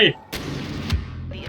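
A sharp explosive blast in the video game Star Wars Battlefront, followed by a second burst about half a second later, with rumbling noise between.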